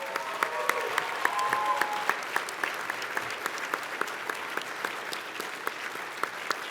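An audience claps steadily for several seconds at an anniversary fundraising event, a dense and moderately loud wash of applause with sharp individual claps standing out.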